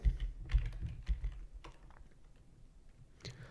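Quick taps on a computer keyboard enter Java code. Bursts of keystrokes are heard close and soft, denser at first and then thinning out, with a few final clicks near the end.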